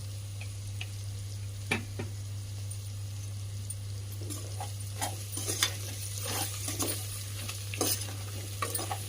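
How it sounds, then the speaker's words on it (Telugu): Spices fry in oil with turmeric, salt and chili for soya pulao, sizzling steadily under a constant low hum. A spoon stirs and taps against the pan in scattered clicks. No talking. "అన్నీ వేసుకొని మంచిగా ఇట్లా ఫ్రై చేసుకోవాలి"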